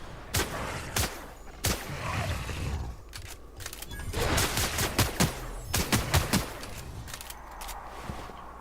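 Sniper pistol gunfire in The Outer Worlds, a series of sharp, loud single shots spaced irregularly, some in quick bursts, over a busy game soundscape.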